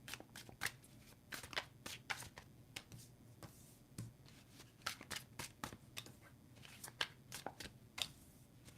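Tarot cards being shuffled up close, a long run of quick papery riffles and soft snaps in an uneven rhythm, fairly quiet with faint room noise between bursts.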